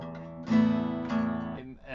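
Acoustic guitar strummed from the top string with a drony, ringing quality, as a beginner might play along to a song; two strums sustain and overlap, moderately loud and close.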